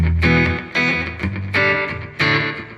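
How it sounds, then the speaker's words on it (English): Electric guitar through a Fender Deluxe Reverb Tone Master amp with a Boss DD200 slapback delay, played as loud, repeated chords and notes, each attack followed by a quick echo, with no talking. "I've got a slapback going on there"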